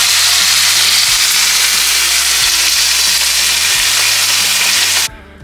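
Food sizzles in a small frying pan with a loud, steady frying hiss that runs unbroken and then cuts off abruptly just before the end.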